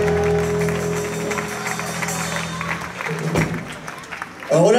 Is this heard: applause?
yes